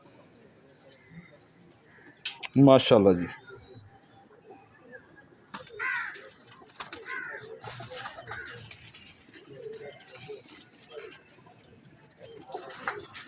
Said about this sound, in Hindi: ये बुलेट कबूतर है जी, चैंपियन छत का ब्रांड है